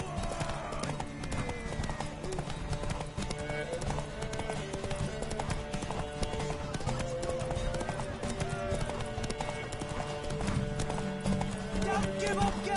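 Rapid hoofbeats clatter steadily as a horse gallops in The Witcher 3: Wild Hunt, with a whinny and music layered over it while voices shout.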